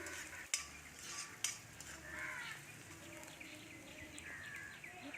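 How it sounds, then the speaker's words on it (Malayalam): Sliced onions with a little salt being stirred as they sauté toward brown, a soft sizzle with occasional utensil taps against the pan, quiet and fairly distant, no speech. "ഏകദേശം ഒരു ബ്രൗൺ നിറം ആകുന്നത് വരെ നമുക്ക് ഇളക്കി കൊടുക്കാം"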